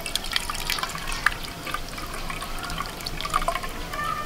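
Freshly blended watermelon juice drains through a large sieve, a close, steady wet trickle and patter of dripping liquid with small splashes, heard alone without talk.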